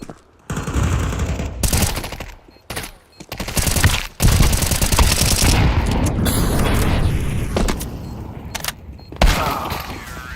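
A flashbang grenade goes off in a Counter-Strike 2 competitive match, loud and close, amid rapid bursts of gunfire and booms that fill most of the stretch.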